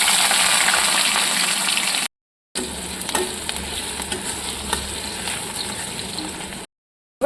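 Chopped onion hits hot mustard oil already tempered with cinnamon, bay leaf and dried chilli, giving a loud, close, continuous sizzle with scraping stirs. The sound cuts out twice in brief silent gaps.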